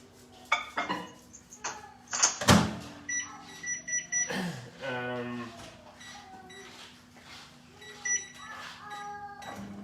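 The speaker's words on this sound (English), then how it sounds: "we're going to pop that into the microwave over here" A microwave oven hums steadily in the background, its running drone mixed with clinks of dishes and other kitchen clatter nearby.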